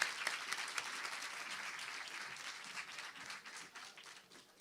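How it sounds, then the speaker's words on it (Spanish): An audience in a venue hall claps to welcome a speaker, a dense, bright burst of applause that slowly thins and softens over a few seconds. "les pido un muy fuerte aplauso para recibir aquí en Magnolio Sala a Tamara Tenenbaum"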